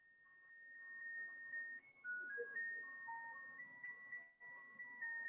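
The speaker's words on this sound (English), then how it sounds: "There's an ice cream truck outside." A faint ice cream truck chime plays Jingle Bells somewhere outside, a thin, tinkly melody of steady electronic notes carrying on continuously from a distance, with no voices over it.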